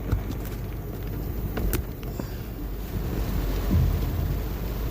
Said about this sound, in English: I'm kind of glad it's raining.